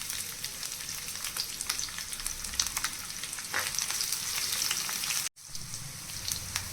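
Half an onion with cumin and two chillies frying in a tempering for vegetable sambar, a soft, continuous sizzle with scattered crackles and a brief dropout near the end.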